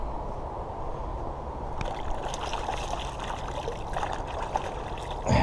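Freshly dug vegetables from an allotment are rinsed outdoors in cold water, making a steady, faint trickling and sloshing with occasional soft splashes.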